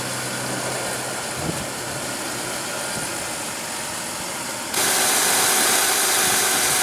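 A 2000 Toyota 4Runner Limited with a 3.4-liter V6 idles with a steady, even engine drone that suddenly steps up louder and brighter near the end.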